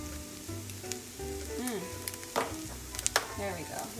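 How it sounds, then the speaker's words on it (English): Chicken frying in a pan seasoned with chili pepper and black pepper gives a soft, steady sizzle with a few sharper crackles and stirring scrapes, fairly quiet, under some faint talk. "You hear that sizzling?"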